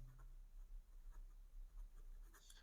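Marker or chalk writes on a board during a classroom grammar lesson, making soft, faint scratching strokes in short bursts with a low hum underneath.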